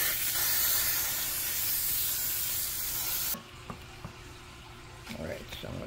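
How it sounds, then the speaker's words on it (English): A loud, sustained hiss of cooking oil spraying into the bottom of a pan for a few seconds, then it stops, leaving faint clinks and light background noise. "I'm gonna spray the bottom of this can with some oil."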